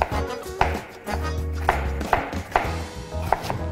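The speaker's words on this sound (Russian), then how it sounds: "Болгарский перец нарезаю соломкой." A knife slices bell peppers into strips on a cutting board, giving about eight crisp, close chops at a slightly uneven pace with short pauses between them.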